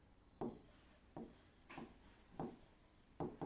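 Handwriting a sentence, probably chalk or pen on a board during a grammar lesson: five distinct scratchy strokes with short pauses between them, close and fairly quiet, with no talking.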